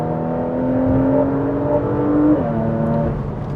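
A 2025 Porsche Macan GTS accelerates at half throttle, its engine note rising steadily through the revs before an upshift drops the pitch, loud and close from inside the cabin with no talking.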